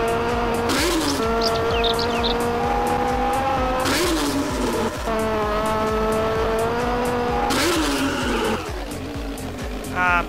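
A motorcycle drifts in GTA San Andreas, its engine whining through rising and falling revs while tires squeal in loud bursts over a steady roar.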